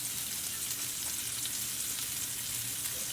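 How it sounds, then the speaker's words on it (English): Pork tenderloin searing in a hot pan, a steady, even sizzle that fills the whole stretch at moderate loudness, close by and with no voices over it. "I'm gonna let it sear a couple minutes on each side"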